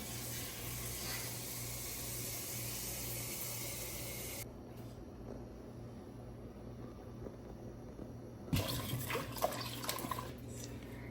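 Steady bubbling and hissing of rice boiling in a clay pot on a fire, continuous throughout, with clinks and scraping near the end.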